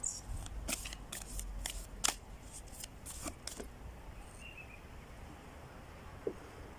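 Tarot cards being shuffled in quick crisp bursts of riffling and flicking, fairly close, then settling into quiet with a single faint tap near the end.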